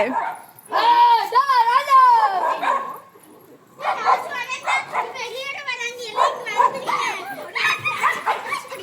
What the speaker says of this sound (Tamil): ஐயோ நாய்க்கு ஃபைட் வந்துச்சு